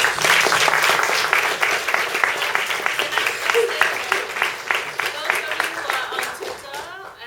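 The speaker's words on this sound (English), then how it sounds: "maybe shall we give them first a round of applause?" An audience applauds its speakers at a talk on ending violence against women, with steady, dense clapping that begins loud and gradually thins and fades over about seven seconds.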